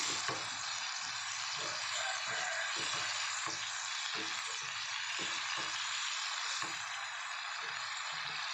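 Mixed vegetables and shrimp stir-frying in a pan give a steady, close sizzle, with rhythmic scraping strokes of a spatula repeating throughout and no talking.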